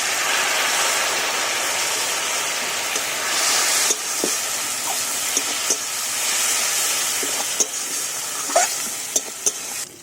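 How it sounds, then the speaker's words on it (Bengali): Spice paste is fried and stirred in oil left from frying field crabs, for a Bengali crab dish. A dense, close sizzle carries on throughout, with sharp clicks and scrapes of stirring near the end. "কাঁকড়া ভাজার তেলে মশলাটা কষাচ্ছি"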